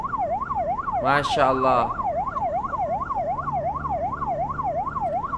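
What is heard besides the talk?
ambulance siren passing in Malaysian traffic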